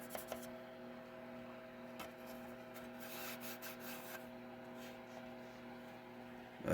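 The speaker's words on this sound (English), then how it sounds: "I got a magic eraser to probably bring this thing real clean." A magic eraser rubs over the casing of a Black Cat 500 watt radio amplifier, a soft continuous scrubbing and rasping close by, with a few small knocks, under a steady low electrical hum.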